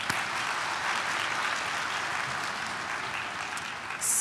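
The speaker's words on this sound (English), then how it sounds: "Let's give us a round of applause" Audience applause at a 2019 college graduation ceremony in Mississauga, a dense, steady wash of many hands clapping at an even level throughout, with no voices rising above it.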